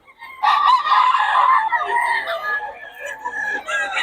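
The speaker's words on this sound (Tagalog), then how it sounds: "May mga manok yan" Roosters crow in loud, strained calls, one after another over about four seconds, close by with faint background clucking.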